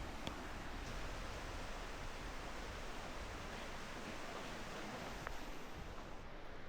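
Continuous rushing of small waterfalls, even and unbroken throughout, like water tumbling over rocks nearby with no voices.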